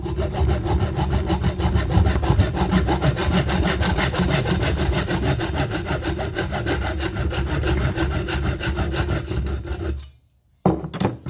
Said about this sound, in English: So cut off the length that you're going to need first.